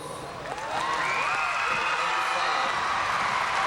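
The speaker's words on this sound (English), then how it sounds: "to a big round of applause from the crowd" Crowd applause at a 1996 professional team gymnastics championship after a men's routine, a broad steady roar of clapping and cheering that swells in after half a second and holds loud, with a commentator's voice carried over it.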